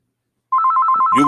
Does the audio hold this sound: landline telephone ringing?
yes